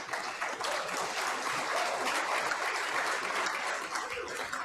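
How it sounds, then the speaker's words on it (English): A crowd of fans applauds and cheers at a professional pool billiards tournament, a dense, steady wash of clapping heard from some distance with no break. "Loud round of applause from all these American fans here cheering on Brittany and Skylar."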